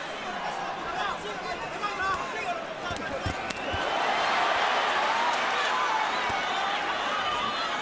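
Boxing arena crowd at the Floyd Mayweather vs Miguel Cotto fight, a steady roar of chatter and babble that swells louder midway, with scattered thuds and bursts.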